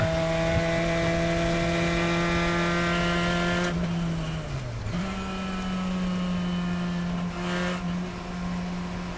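A race car engine at Sonoma holds a steady high whine, dips in pitch as the car brakes into a turn, then climbs back to a sustained drone, heard from inside the car.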